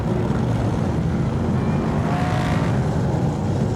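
BriscaF1 stock cars race around the Belle Vue track in tricky conditions, their engines forming a dense, continuous roar with a car swelling closer partway through.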